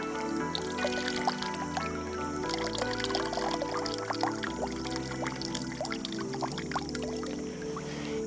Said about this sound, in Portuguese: nós vamos tirar o excesso da água